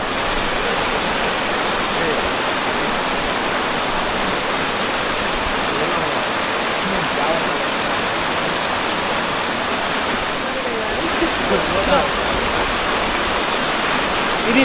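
A shallow stream crossing near Enagasari waterfalls in Telangana rushes and gurgles in a steady, dense wash of water that holds at a constant level, with faint voices now and then underneath.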